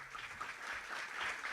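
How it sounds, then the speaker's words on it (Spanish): Applause from a congress audience welcoming speakers, with steady dense clapping of moderate loudness that swells slightly toward the end of a brief burst. "Les pedimos un fuerte aplauso para recibirlos"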